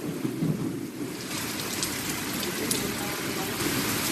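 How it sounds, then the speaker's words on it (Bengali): Heavy thunderstorm rain over Kolkata, a dense, steady roar of downpour that swells after the first second and stays loud and even throughout, with a low rumbling undertone. "প্রবল ঝড় বৃষ্টি সঙ্গে বজ্রপাত"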